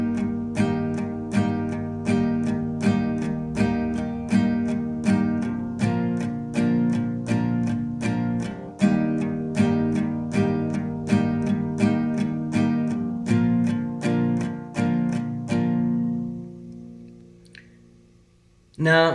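Strummed guitar chords for the first part of a song, in a steady regular rhythm of evenly spaced strums that fade out near the end, close and alone.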